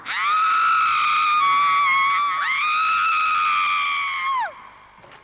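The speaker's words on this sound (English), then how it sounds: "I then screamed as hard as I could twice." A woman screams long and loud during an attack, one sustained shriek broken by a brief dip before it rises again and cuts off.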